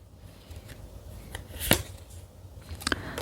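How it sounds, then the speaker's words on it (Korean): Tarot cards riffled and drawn during a reading, a sharp papery flutter near the middle followed by a second softer card snap, close and otherwise quiet. "카드로 한번 뽑아보도록 할게요."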